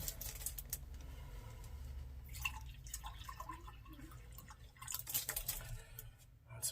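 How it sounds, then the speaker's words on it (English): Water is poured over dried pasta and herbs in a camping meal pouch, producing faint splashing and trickling in short irregular bursts against a quiet low hum. "I'm going to pour this down, rehydrate some of those dried herbs, and make sure that that pasta is covered"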